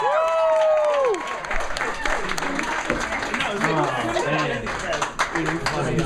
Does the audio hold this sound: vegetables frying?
no